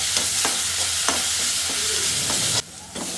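Boiled potatoes being stirred in hot oil with a spice paste for aloo paratha filling, a constant loud sizzle broken by several scraping spoon strokes, dropping quieter near the end, no voices.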